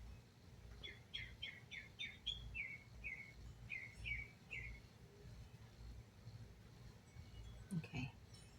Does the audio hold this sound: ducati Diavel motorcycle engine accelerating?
no